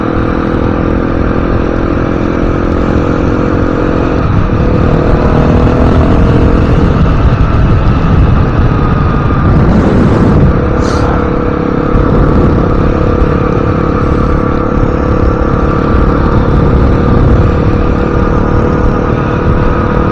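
A motorcycle on the move gives a loud, continuous engine drone with rushing wind, its pitch shifting slightly as the ride goes on.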